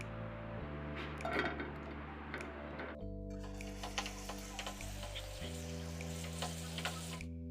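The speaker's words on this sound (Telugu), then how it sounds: "ఇప్పుడు ఈ పన్నీర్ని దీంట్లో బాగా ఫ్రై చేసుకోవాలి" Cubes of paneer frying in a few spoonfuls of oil in a pan for South Indian palak paneer, a steady close sizzle with small crackles and ticking pops throughout, louder after a fresh addition partway through, no talking.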